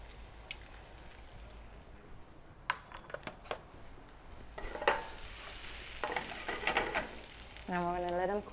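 Garlic and diced onions fry in about two tablespoons of olive oil in a warm pan, a bright crackling sizzle punctuated by utensil taps and scraping, rising louder toward the end; no one speaks.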